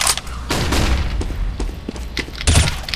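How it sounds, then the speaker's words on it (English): A flashbang grenade detonating in the game CS:GO among a flurry of sharp gunfire bursts and booms, loud and close, with no talking. "Flashbang."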